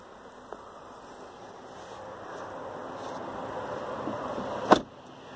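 Panoramic roof motor on a 2017 Mercedes-Benz GLS 550, a low steady electric whir that slowly builds over several seconds inside the cabin and ends in a sharp click as the roof stops.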